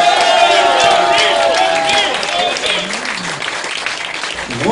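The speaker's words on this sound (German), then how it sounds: "Applaus für Ronny!" Audience applause and cheering at a German reading event, a dense burst of clapping with shouting voices over it that gradually thins toward the end.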